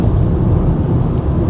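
Rain heard from inside a moving car: a dense, loud rumbling wash of drumming and road noise, continuous and close, with no talking.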